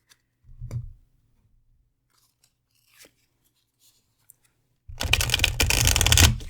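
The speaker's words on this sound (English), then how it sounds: "Let's keep shuffling." Oracle cards being shuffled by hand during a tarot-style reading: a brief riffle near the start, a few faint clicks, then a dense, loud stretch of card shuffling over the last second and a half.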